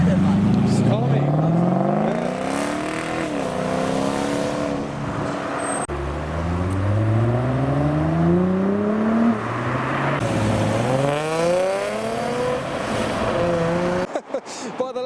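Cars at a large car meet rev and pull away one after another, engines rising and falling in pitch as they accelerate past, loud and nearby, with someone talking over the engine noise.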